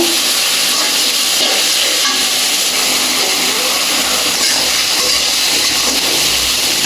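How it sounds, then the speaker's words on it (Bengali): Potatoes and onions fry together in a pan with a loud, dense and unbroken hiss of hot oil that stays steady throughout, with faint stirring beneath it and no voices. "আলু পেঁয়াজ একসাথে আমি ভেজে নেব"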